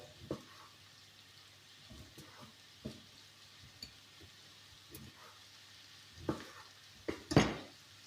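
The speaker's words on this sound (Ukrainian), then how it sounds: "трошки обжарила морку з цибульку і сюди висипаю огірочки порізані, дрібненько" Carrots and onion frying quietly in a pan as chopped cucumbers are tipped in, with soft scattered clacks and scrapes over a faint low sizzle and a louder clatter near the end.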